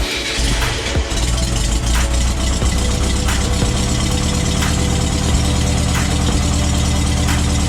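A freshly built engine with a generator and carburettor runs loud and close on a test stand after fuel is pumped, a rough, steady idle with rapid rhythmic knocking and a few sharp ticks.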